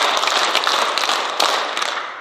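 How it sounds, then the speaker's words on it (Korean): An audience at a retired elders' conference retreat claps together in a quick burst of several sharp, loud, close claps that fade slightly toward the end. "박수 5번 시작!"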